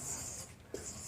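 Chalk or marker writing on a board during an English grammar lesson, a faint scratching stroke under light room noise with a short tap near the end.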